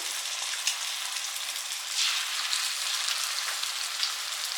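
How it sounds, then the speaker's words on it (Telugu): Ginger garlic paste frying with browned onions and green chillies in a pan for a chicken curry gravy: a steady, close sizzle and crackle that carries on evenly throughout, without talk. "అల్లం వెల్లుల్లి పేస్ట్ కూడా మంచిగా 1 నిమిషం మంచిగా ఫ్రై అవనిద్దామండి, పచ్చివాసన పోయేలాగా"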